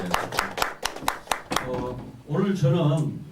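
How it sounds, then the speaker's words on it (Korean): Audience at a university admissions information session claps in a quick, even rhythm, about seven sharp hand claps over a second and a half, then a voice starts speaking. "괜찮다면 박수 한번 부탁드립니다."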